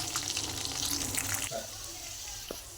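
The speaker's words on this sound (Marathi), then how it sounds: "आता उकडलेला बटाटा तेलात सोडायचा।" Boiled potato dropped into hot oil for sabudana khichdi sets off a bright, bubbling sizzle that is loudest for the first second and a half, then settles into a quieter, steady frying hiss.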